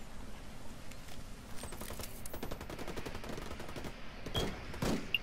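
Automatic gunfire in Ghost Recon Wildlands PvP combat: rapid bursts of shots in a steady rattling rhythm, fairly quiet overall, with a sharper report near the end.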